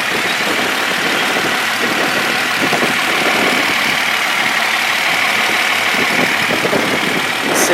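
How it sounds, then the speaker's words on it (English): A Datsun 260Z's 2-litre L20 engine idles steadily, a close, even mechanical hum that runs on alone without talk. "So this is the L20 engine, 2-litre engine."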